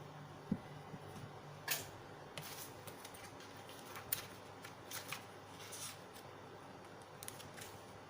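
A tarot card deck is shuffled close by: quiet papery riffles and soft flicks come in scattered bursts over a hushed room.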